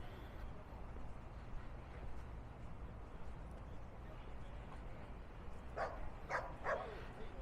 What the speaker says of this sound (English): You're wondering where the barking's coming from.